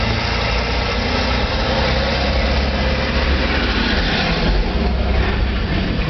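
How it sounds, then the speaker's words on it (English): Heavy trucks rumble past nearby, a loud, continuous engine roar and road noise that holds steady throughout with no break. "Loud trucks going by."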